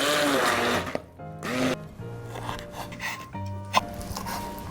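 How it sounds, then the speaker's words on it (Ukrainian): A blender mixing sugar and butter for a cake whirs loudly in steady bursts, its motor pitch rising and dropping as it starts and stops, close by with no talking. "Я перебиваю блендером."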